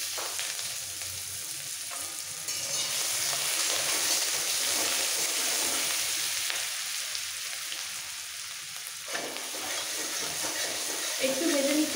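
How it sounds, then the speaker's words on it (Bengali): Chillies, grated garlic and ginger fry in a pan for vegetable fried rice, a steady broadband sizzle that grows louder as the garlic and ginger go in, with stirring noises throughout. "লঙ্কা ভাজা হয়ে যাওয়ার পর এর মধ্যে দিয়ে দিচ্ছি 1 চামচ গ্রেট করে রাখা রসুন আর 1 চামচ আদা।"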